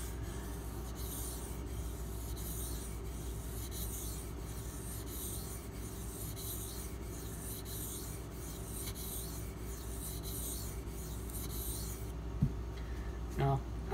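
Steel knife blade rubbed back and forth on a 2000 grit sharpening stone, a steady, continuous rasping scrape that runs close and even throughout before stopping near the end.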